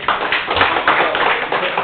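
An audience at a district training council meeting claps together, producing a dense, continuous patter of many hands that holds steady throughout.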